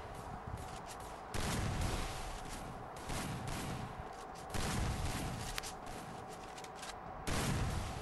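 Gunfire in the Free Fire battle royale video game, several bursts of shots arriving in loud clusters separated by quieter stretches, with a constant background drone throughout.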